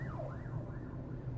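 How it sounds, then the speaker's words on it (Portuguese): Ambulance siren wailing on a São Paulo road, its pitch sweeping up and down in repeated cycles over steady traffic rumble, moderately distant. "Dá passagem aí para ambulância. A ambulância aí ficou atrás."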